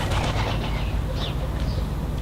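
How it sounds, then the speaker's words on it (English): Birds around a solar shower in a garden, with soft cooing and a few light chirps and wing sounds over a steady outdoor hiss. "And obviously the birds are wanting a shower as well."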